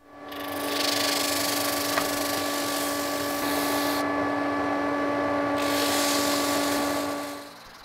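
A disc sander runs steadily for about seven seconds, squaring and sanding a resin block with a burl wood inclusion, giving a loud whine with tonal hum and rough grinding, starting up and winding down at the ends.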